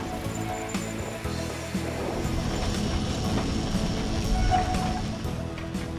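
Steady mechanical rumble of a cable tram climbing a hill, with rhythmic clicking and rattling running throughout.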